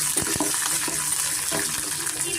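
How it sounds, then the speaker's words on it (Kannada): Green chillies, ginger and garlic frying in a pan for mutton sambar, a steady close sizzle with a few soft scrapes and clinks of stirring, no voices. "ಅದನ್ನು ಸ್ವಲ್ಪ ನಾನು ಚೆನ್ನಾಗಿ ಫ್ರೈ ಮಾಡ್ಕೊತೀನಿ."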